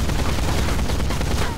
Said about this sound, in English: I have no idea where the shots are coming